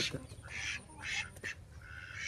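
Ducks at a village duck market near the Sundarbans give several harsh quacks in quick bursts, fairly close but not loud, with faint background noise.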